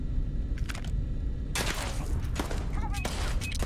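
Gunfire in the video game Starfield, bursts of rapid shots and sharp cracks with a sudden louder volley midway, mixed with game effects, while people talk.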